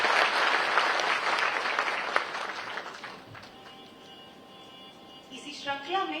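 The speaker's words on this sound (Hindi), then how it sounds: "जोरदार तालियों से स्वागत।" An audience at a college placement day ceremony in Bhopal breaks into strong applause that fades out over about three seconds, leaving a quiet hall where faint music or tones come in near the end.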